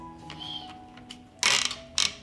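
A 6-litre pressure cooker lid is shut, with soft metallic scraping and ticking followed by two sharp, loud clunks of the lid locking into place, close by.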